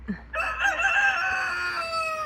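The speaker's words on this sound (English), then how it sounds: "Rooster" A rooster crows once, loud and close, a long ringing cock-a-doodle-doo after a brief cluck.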